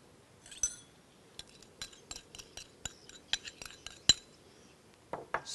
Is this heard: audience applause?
no